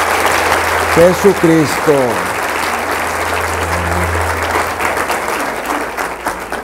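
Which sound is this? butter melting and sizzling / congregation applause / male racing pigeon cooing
congregation applause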